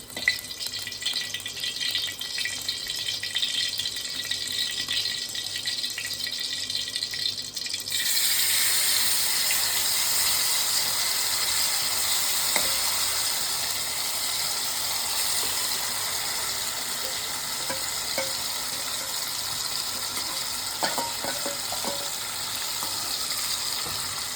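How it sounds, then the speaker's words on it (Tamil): Marinated chicken goes into hot ghee and starts roasting, a steady bright sizzle rising suddenly partway through and carrying on under faint clinks, with no one talking. "அந்த சிக்கன் எடுத்து அந்த நெய்யில் போட்டு அப்படியே நல்லா வதக்கணும், ரோஸ்ட் பண்ணணும்."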